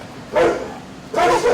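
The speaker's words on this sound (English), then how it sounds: "That's a friendly dog." A friendly dog at an animal shelter gives two loud, close barks about a second apart, with quiet room tone between them.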